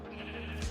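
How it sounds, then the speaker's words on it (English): A short, soft Minecraft sheep bleat, brief and somewhat distant, heard alone. "Ah, wolves are killing sheep."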